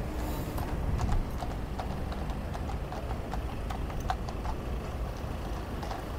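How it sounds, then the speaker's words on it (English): Horses pulling a carriage away from Buckingham Palace give a steady clip-clop of hooves on pavement, heard through a constant outdoor rumble of crowd and traffic. "we actually have the exit of the horse and carriage. So they've just left Buckingham Palace"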